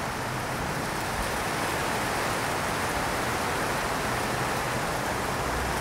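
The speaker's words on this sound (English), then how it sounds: "that is the strongest rain I've seen in months" Heavy rain in Chicago comes down hard, a loud, continuous wash of noise like a downpour hitting streets and roofs close by, steady throughout with no talking.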